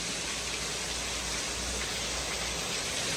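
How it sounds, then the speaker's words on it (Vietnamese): Heavy rain pours down in a storm with no wind, a dense, loud, constant hiss of falling water that fills every moment with no pauses and no voices. "Giờ này thì mưa lớn thì nó không có gió"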